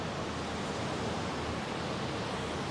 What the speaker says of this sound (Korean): 이 영상 지금 바다 파도 소리가 굉장히 크게 들리는데